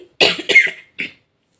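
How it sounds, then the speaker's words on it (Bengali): Two quick close coughs, then a single softer cough after a short pause, sharp and loud against silence. "কাশিটা না মাঝে মধ্যে হচ্ছে"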